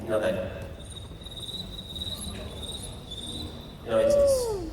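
A voice actor at a cartoon voices panel mimics a cricket with his voice, holding a thin, steady, high chirping tone, with talk at the start and end.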